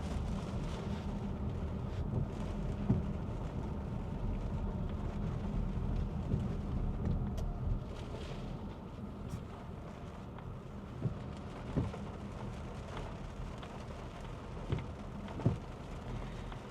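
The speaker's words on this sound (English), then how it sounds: "the rain really isn't a downpour yet, just steady coming down" Steady rain from Tropical Storm Debby falls in Myrtle Beach, South Carolina, with a constant broadband hiss, mixed with gusty wind buffeting the microphone and a few faint, scattered knocks.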